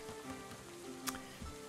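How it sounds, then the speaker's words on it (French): Rain in the medieval colony-building game Going Medieval falls as a soft, steady patter at low level under faint tonal game sounds, with one brief sharp tick partway through. "Il repleut, mais il arrête pas de pleuvoir"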